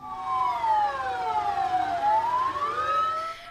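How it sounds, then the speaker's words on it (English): Sirens wailing in overlapping rising and falling sweeps during a minute of mourning for rescue victims, loud and continuous with a faint road hum beneath, no voices. "Rescue workers and other people stood still as they heard sirens and car horns bellowing for 1 minute"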